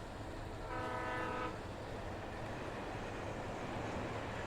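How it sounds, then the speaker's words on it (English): A train horn blows a sustained tonal blast for about a second over steady, loud rumbling rail noise, heard in the Alan Wake game setting; no voices. "Was that a train or was that a truck? That is a train."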